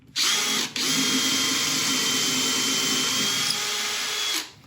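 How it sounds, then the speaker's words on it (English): A power drill bores a small pilot hole for a worm screw into a beech bowl blank, one steady whirring run of about four seconds with a brief dip near the start, close and loud with no talk. "We're going to be mounting this with a worm screw, so we'll just start off at a little hole"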